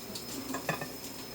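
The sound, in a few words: scraping a mixing bowl of cheese muffin batter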